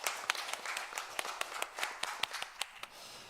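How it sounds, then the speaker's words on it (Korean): A church congregation claps during a worship service, a modest, fairly quiet round of distinct hand claps with irregular rhythm that fades out after about three seconds. "하나님께 영광의 박수를 드리겠습니다"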